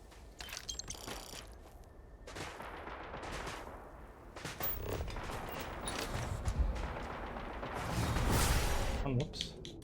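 Automatic weapon fire, either machine gun or laser gun, in the Starfield Shattered Space game. Rapid bursts of shots crackle through a dense, noisy battle soundscape and grow loudest toward the end.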